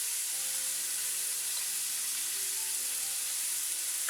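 Tomatoes and olives sizzle in a frying pan while a cheesy vegetable bread appetizer is made, a steady, even hiss that continues unbroken throughout with no voices.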